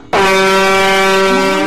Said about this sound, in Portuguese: não deve ter colocado essa buzina